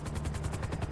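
A helicopter in the video game GTA V thrums nearby with a fast, even rotor chop, about ten low thumps a second, steady and fairly quiet with no voices.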